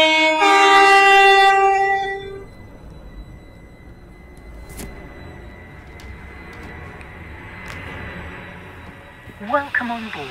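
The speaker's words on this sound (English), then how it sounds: "This train is formed of four coaches." Train in the Roblox game Stepford County Railway pulling into Stepford East station, a loud harmonic horn blast in the opening two seconds, then a steady rolling rumble with faint clicks as it arrives.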